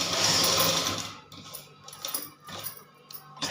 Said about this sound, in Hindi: इस तरीके से हमें सिलाई लगा देनी है